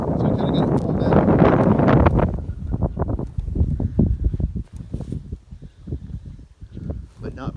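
Strong outdoor wind buffeting the microphone beside a military pup tent, a loud roaring rumble over the first two seconds that then eases into gusty flutter, with someone talking under it.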